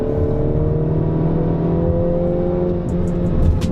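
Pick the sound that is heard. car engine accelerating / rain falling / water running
car engine accelerating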